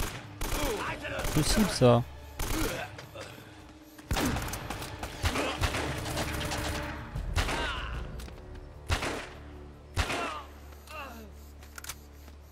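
Bursts of gunfire from the video game Uncharted: Drake's Fortune Remastered, with sharp shots and short volleys spread across the clip under someone speaking French.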